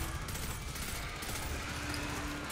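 Rapid gunfire from the video game Destiny 2, a dense continuous fusillade of shots aimed at an ogre, steady and fairly loud throughout with no break.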